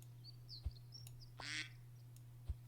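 Cartoonish duck quacks from the Super Auto Pets video game sound faintly, a brief nasal quack over a low steady hum with a few soft clicks around it.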